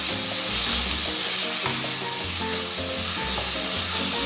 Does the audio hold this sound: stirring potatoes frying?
yes